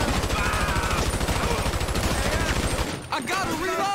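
Dense, continuous automatic gunfire from a GTA 5 turf gang war, loud and rapid for about three seconds before dropping away, with a voice heard briefly near the end.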